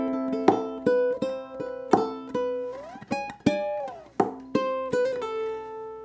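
Ukulele strummed and picked alone, playing a passage from a song with rhythmic chord strokes and sustained notes, close and clear, one string line sliding up and back down midway.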